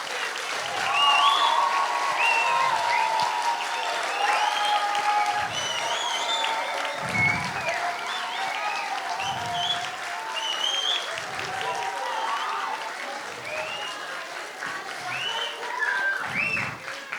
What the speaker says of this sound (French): je pense que vous pouvez vous applaudir encore une fois